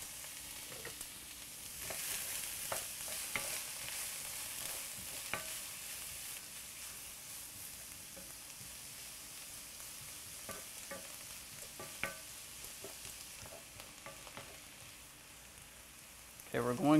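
Sliced zucchini seasoned with salt and cracked black pepper sautés in a pan with a steady soft sizzle, broken by occasional stirring scrapes and light clicks, moderately close with no talk.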